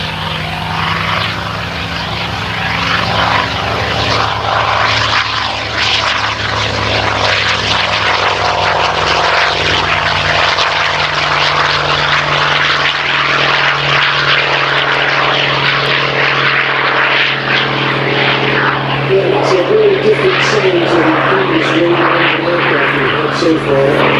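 A Hawker Sea Fury's piston engine and propeller roar loud and continuous during a flying display, holding a steady droning pitch that swells slightly as the fighter passes, with an announcer talking over it.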